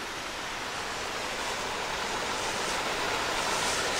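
Water pours steadily over the ruined concrete Lake Leigh Dam at Ricketts Glen State Park, a continuous broadband rushing roar heard close by, unbroken and slowly building slightly louder, with no voices.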